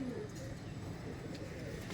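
Bangladeshi teddy pigeons coo softly and continuously at close range, a low, murmuring sound that stays quiet throughout.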